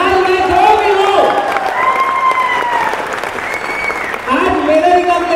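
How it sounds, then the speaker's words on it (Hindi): An audience claps and cheers in a large room, with the applause running under a prominent voice or amplified sound throughout. "मेरी प्यारी टीम, एक बार अपने लिए जोरदार ताली बजाइए।"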